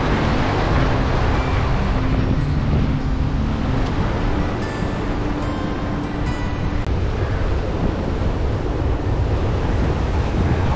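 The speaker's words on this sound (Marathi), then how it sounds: "ॲक्च्युली हवा आहे ना, खूप आहे," Strong, fast wind buffets the microphone at a seashore, a loud continuous roar blended with surf that runs unbroken through the whole stretch.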